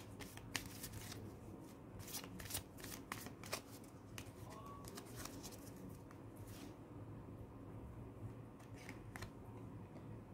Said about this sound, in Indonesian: Ini saya ambil 2 kartu juga.